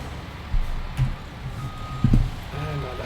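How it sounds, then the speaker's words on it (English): Truck reversing beeper in Farming Simulator 19, moderately loud in a game scene with engine rumble, punctuated by a few low thumps and short bursts. "And I left the beeper on."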